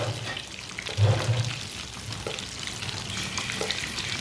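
Egg bread frying in a pan: a steady soft sizzle throughout, with a brief low bump of the pan near the start and no voices.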